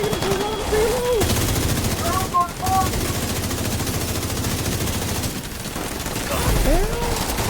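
Sustained automatic gunfire from a Ubisoft action game rattles on nearly nonstop in dense, loud bursts, with a voice talking over it.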